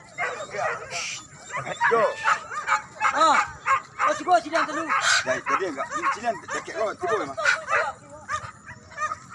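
Several dogs bark and yip at a dog race, sharp barks coming in bursts over a crowd murmur while people talk and a man calls out nearby throughout.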